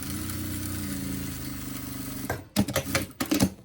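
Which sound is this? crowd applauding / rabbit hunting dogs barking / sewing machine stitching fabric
sewing machine stitching fabric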